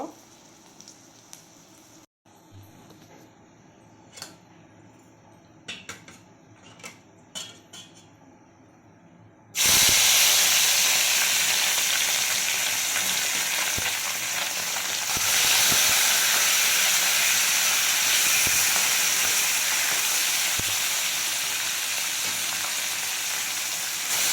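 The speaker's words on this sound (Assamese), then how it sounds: "আৰু মাছখিনি ফ্ৰাই কৰা হৈ গ'ল" Boroliya fish fries in oil. The first stretch is quiet, with scattered clicks and knocks, then a loud, dense sizzle and hiss erupts and holds steady to the end.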